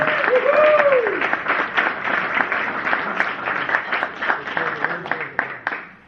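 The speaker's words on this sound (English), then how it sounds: "how about a round of applause for this young man right here?" An audience at a civil-military installation event gives a round of applause for a young man, a dense burst of clapping that gradually thins out over several seconds, with faint voices mixed in.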